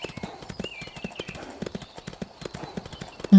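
Horse hooves clip-clop at a steady riding pace in the video game Ostwind Remastered, a close, even rhythm of sharp hoofbeats running throughout and ending in a heavier thump.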